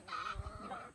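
A chicken clucks close by in a few short, harmonic bursts, carrying on steadily through the second with no talking over it.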